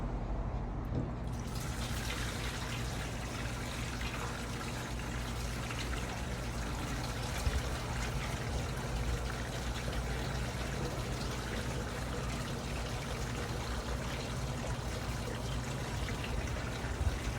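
Liquid pours out of a 1963 VW Bug gas tank into a funnel during restoration, beginning after a brief pause and then running as a steady, close trickling stream with no talking.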